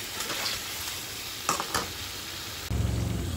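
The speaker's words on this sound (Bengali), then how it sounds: "এবার এর মধ্যে দিয়ে দিচ্ছি আগে থেকে সেদ্ধ করা আলুগুলি" Half-boiled potatoes are tossed into a spiced masala for Kashmiri alur dum, giving a steady close sizzle with a few sharp scraping stirs and a louder, fuller frying burst near the end.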